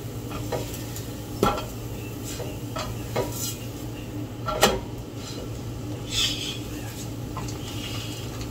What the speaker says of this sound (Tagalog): Samahan niyo po ako magluto ng piniritong itlog with bread.